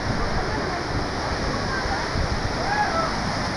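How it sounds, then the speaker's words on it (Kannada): Hebbe Falls waterfall in Chikmagalur roars continuously as a broad, steady wash of rushing water, loud and close, with no pauses throughout. "ಹೆಬ್ಬೆ ಫಾಲ್ಸು."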